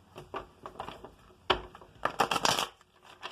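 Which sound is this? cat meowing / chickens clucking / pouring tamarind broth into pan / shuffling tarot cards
shuffling tarot cards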